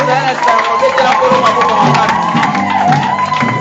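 A church congregation cheers and shouts loudly in praise at a Kinshasa service, a dense, sustained roar of many voices with whoops and some clapping that runs throughout.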